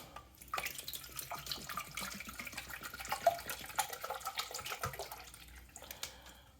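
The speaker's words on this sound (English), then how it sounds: "So I'll pour water here." Water pours steadily into a Keurig K-Compact coffee maker's reservoir in a soft splashing stream, fairly quiet and close, with a few small bumps and clinks.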